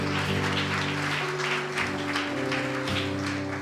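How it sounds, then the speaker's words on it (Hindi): A church congregation claps loudly and continuously in praise during a worship service, the crowd's applause sitting over sustained keyboard chords that shift partway through. "ताली बजाएंगे प्रभु यीशु के लिए।"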